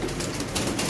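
Lahori pigeons being handled for delivery in Bangladesh, giving a soft, continuous burble of cooing with faint wing and body movement throughout, close by and with no talking.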